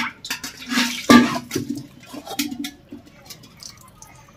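Water is drained off washed chicken in a kitchen, making splashing and trickling sounds with a wet squish and some drips. Brief bursts of pouring come and go, close by.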